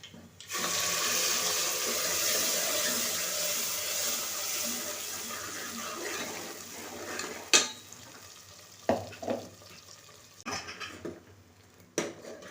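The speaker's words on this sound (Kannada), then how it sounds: "ಬೆಳ್ಳುಳ್ಳಿ ಸ್ವಲ್ಪ ಫ್ರೈ ಆದಮೇಲೆ ಇದಕ್ಕೆ ನಾವು ರುಬ್ಬಿದ್ದಂಥ ಪೇಸ್ಟನ್ನ ಇದಕ್ಕೆ ಸೇರಿಸ್ಕೊಳ್ಳಿ" Ground masala paste frying with garlic in a pan for Kannada-style fish curry, a steady close sizzle for about seven seconds, then quieter crackle broken by several sharp stirring clatters.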